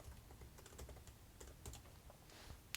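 Keys on a computer keyboard are typed in a quick, irregular run of soft clicks at moderate distance, with no voices.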